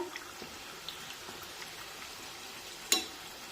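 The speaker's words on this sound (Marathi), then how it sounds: "आणि दुसऱ्या बाजूने सुद्धा पुरी छानपैकी तळून घेऊया" A potato puri for fasting deep-fries on its second side in oil, a faint, soft crackling sizzle broken by one sharper click.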